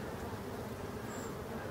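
Steady, dense insect buzz of honeybees close around a hive on a late-summer evening, a continuous drone with no talk.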